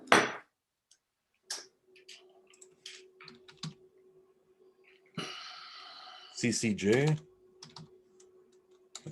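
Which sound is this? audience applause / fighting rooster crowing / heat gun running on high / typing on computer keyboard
typing on computer keyboard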